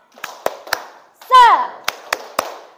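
A classroom of children performs a rhythmic spirit clap, three sharp group claps, then a shout of voices, then three more claps in an even beat.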